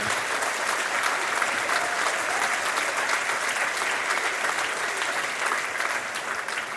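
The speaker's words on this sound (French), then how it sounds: "je vous demande de les applaudir collectivement avec les agents qui travaillent avec eux" Sustained applause from a large audience at a New Year's greetings ceremony of a French community council, steady and dense throughout with no speech over it.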